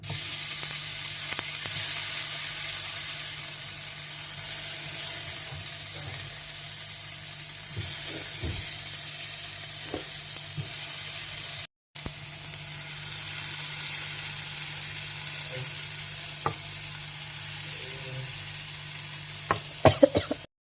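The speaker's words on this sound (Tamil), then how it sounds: "ஊறினதுக்கப்புறம் தோசைக்கல்லில் போட்டு பொரிச்சிக்கலாம்" Raw banana slices sizzle steadily in oil on a dosa griddle, a continuous close frying hiss lasting throughout with a few faint clicks and clatters near the end.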